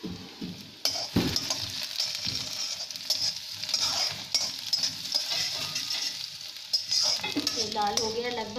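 Onion frying with cumin seeds and asafoetida in a pan for a cauliflower gravy dish, a steady sizzle with scraping stir strokes and occasional utensil clinks, a voice briefly heard near the end.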